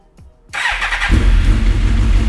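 A Suzuki GSX-R motorcycle engine is started nearby after a short quiet pause: a brief starter whir catches into a firing engine that settles into a loud, steady idle rumble.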